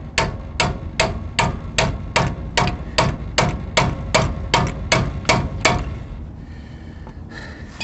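About fifteen sharp metallic hammer blows ring out in a steady, even rhythm on a ball joint separation tool on a Ford F250, close up, then stop, leaving quiet background noise.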